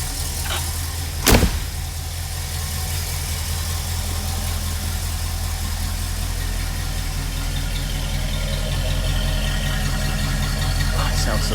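A 1969 Mercury Monterey with a 390 V8, newly fitted with electronic ignition, idles steadily and smoothly after starting, a loud, even low rumble with a brief sharp knock near the start.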